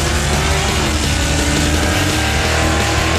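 A drag racing car launches hard off the line at a dragaway, its engine roaring loud and dense with full-throttle revving throughout, no voices heard.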